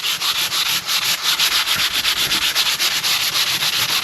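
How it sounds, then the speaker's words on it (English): Medium-grit sandpaper lightly rubs a wood surface in quick, rhythmic back-and-forth strokes, a close, steady scratchy hiss pulsing about three times a second without speech. "I'm going to use that piece of sandpaper. I think this is like a medium grit sandpaper."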